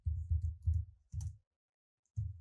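Keys on a computer keyboard are tapped in short bursts while a command is entered: quick clusters of soft, close clicks separated by pauses, with a final keystroke after a brief silence.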